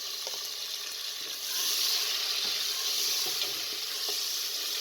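Onion, garlic and tomato fry in a pan for a shalgam saag dish, giving a steady close sizzle with occasional faint stirring clicks and a slight swell in intensity partway through.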